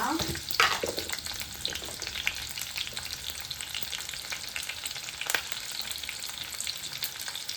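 Chopped green chillies and curry leaves crackle and sizzle in hot oil in a pan, with a few sharp pops early on and stirring scrapes over a continuous frying hiss.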